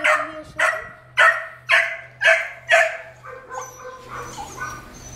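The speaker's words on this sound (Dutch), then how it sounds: "Echt een lief hondje met de voetjes." A small dog barks five times in a quick, evenly spaced series, loud and close. Softer whimpering yips follow, and a low steady hum runs underneath.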